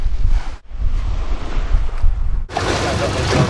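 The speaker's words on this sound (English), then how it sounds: "That bloody wind started to kick up again." Wind gusts roar across open sea off Durville Island, New Zealand, with waves and surf washing steadily; loud, buffeting wind noise on the microphone, briefly dropping before surging back harder.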